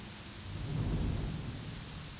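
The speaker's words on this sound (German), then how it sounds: "Es regnet." In the video game The Crew Wild Run, a low rolling rumble of thunder swells and fades under a steady hiss of falling rain.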